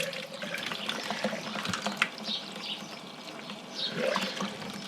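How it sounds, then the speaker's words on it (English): Beer wort for an all-grain pineapple pale ale draining from the grain bed into a brew kettle, a steady trickling, splashing liquid flow with small gurgles, close and continuous. "Pour that back over and let it drain straight into the kettle."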